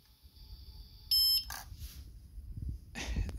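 A drone's 4-in-1 ESC gives a short burst of electronic beep tones, followed by faint clicks and rustles against a quiet background.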